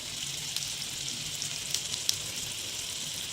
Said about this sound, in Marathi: जिरे तडतडले आहेत